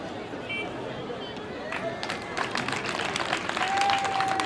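Crowd applause at a UNIR party political rally in Tchamba, a steady wash of clapping that swells toward the end, with a faint whistle tone and cheering carrying over it.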